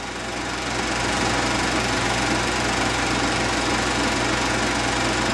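The engine of an Allis-Chalmers WD-45 tractor runs steadily and loudly at close range while the tractor lifts a mounted implement on its snap coupler, a constant rough chugging drone throughout.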